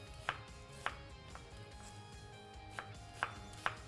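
A knife slices through an onion on a cutting board, shallot and onion cut lightly for a duck liver pâté, giving about six sharp, separate cuts at irregular intervals with no talking.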